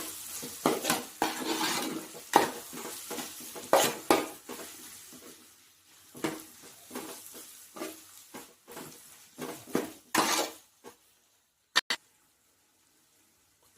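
Tomatoes sautéing in a pan for lentil ball curry (paruppu urundai kuzhambu), heard as a spoon scraping and clattering in uneven bursts of stirring over a soft sizzle, fading to quiet with a couple of final clicks.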